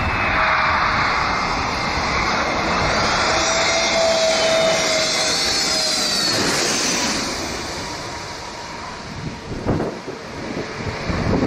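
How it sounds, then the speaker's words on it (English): An Airbus A320 airliner passes low overhead while landing at Skiathos, its loud jet engine roar and whine sweeping past with wind buffeting the microphone, then fading to a rumble. "this Airbus A320 shows how low the planes pass over people while landing at the airport"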